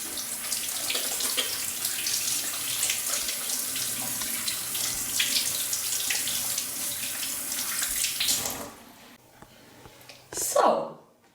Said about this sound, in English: Washing my hands, especially for the young ones.